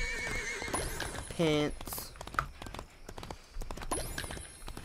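A summoned horse in the Disney Infinity Lone Ranger game neighs once loudly, with steady clip-clop hooves trotting throughout and a person briefly talking over it.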